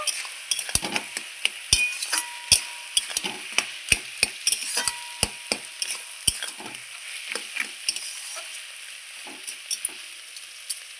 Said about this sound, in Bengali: ভালো করে নাড়চাড় করে নিলাম আমি